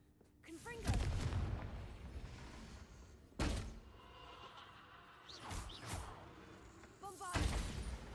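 Fire spell Confringo cast in the video game Hogwarts Legacy, heavy booming blasts with crackling bursts, three main impacts a few seconds apart against a low background.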